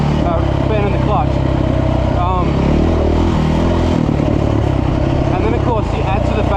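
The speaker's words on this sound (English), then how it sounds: "Being a 450, it's got a lot of torque down low, but it does mean that, you know, below about 15 k's an hour, I'm really fanning the throttle" A KTM 450 EXC custom adventure motorcycle on a sandy trail, its throttle fanned repeatedly at low speed, producing a loud, continuous, uneven engine drone with rising and falling revs throughout.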